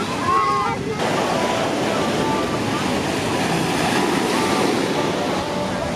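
Surf breaks on a windy resort beach on Mexico's Riviera, a steady broad roar of waves with gusts of wind buffeting the microphone throughout, continuous and fairly loud.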